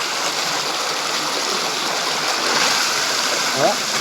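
Water and stones gush under pressure from an old underground borewell, a loud, continuous rushing roar that holds steady throughout.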